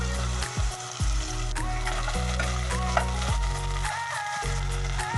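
Sliced onion hits hot oil with garlic in a pan for Filipino ginisang sardinas, giving a close, steady sizzle with occasional stirring scrapes and crackles, with no voices.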